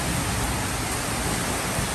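Heavy rain pouring outside a house in Lapu-Lapu City, Cebu, during thunderstorm showers: a loud, dense, unbroken roar of downpour close by, with no voices.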